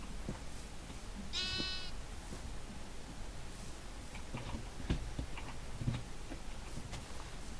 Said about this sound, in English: And don't worry about killing these sheep.